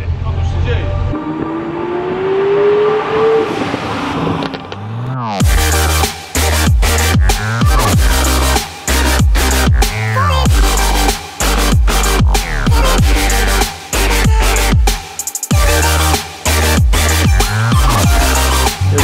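A group of sports cars, including a GR Yaris and a Subaru WRX STI, pull away together, loud engines revving hard in repeated bursts with gear-change gaps, up close after a quieter stretch of idling and a voice.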